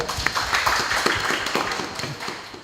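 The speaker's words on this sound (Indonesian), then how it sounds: "Kita kasih tepuk tangan teman Pro 2." High school students at SMA Negeri 2 Tarakan clap together in a fairly loud, close crowd applause with scattered individual hand claps standing out, no speech over it.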